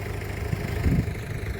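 A tractor engine runs in a farm field, a steady, loud, close low rumble with an even throb throughout the short stretch.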